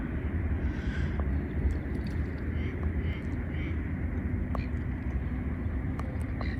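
Steady low roar of distant aircraft and traffic, a continuous broad rumble with a few faint bird calls over it.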